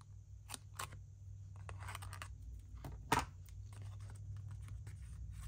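Scissors trimming a PET washi tape roll for a craft project, giving several short close snips spread across the clip and one sharper cut near the middle, over a steady low hum.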